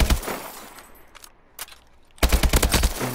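Rifle fire in Call of Duty Advanced Warfare, a fast-firing automatic weapon: one short shot early, then a brief lull with faint clicks, and a loud rapid burst of repeated shots closing out the moment.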